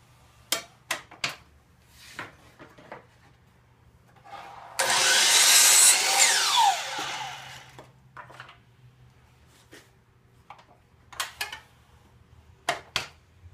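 A power saw spins up and cuts a 45-degree miter through crown molding in one loud burst of about three seconds. The blade then winds down, with scattered knocks and handling clatter before and after the cut.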